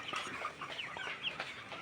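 Several chickens, some with fowl pox, cluck and chatter softly nearby, short overlapping calls in an irregular stream.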